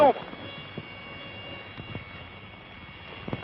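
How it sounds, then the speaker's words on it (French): A helicopter drones continuously from inside the cabin, a muffled steady engine hum with faint rhythmic rotor pulses, while a voice speaks briefly over it. "Nous grimpons dans l'hélicoptère."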